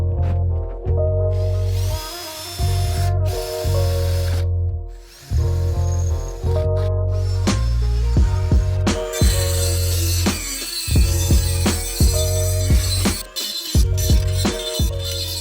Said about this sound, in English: make the holes a little bit bigger on the mounting plates with a combo of a drill bit and a Dremel with a